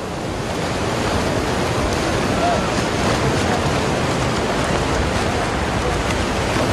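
Strong wind and surf on the beach at Essaouira, Morocco: a loud, steady roar of wind buffeting the microphone over continuous breaking waves, unbroken for the whole stretch with no voices.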